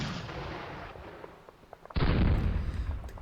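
Tiger tanks opening fire in the wargame Panzer Campaigns Kiev 43: a heavy boom erupts at close range and rolls on as a rumbling blast after a quieter lead-in, with no speech.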